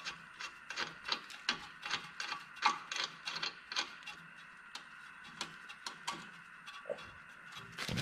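Ratchet tightening a tie rod end nut, quick repeated clicking in uneven bursts with short pauses, close but quiet, with no voices.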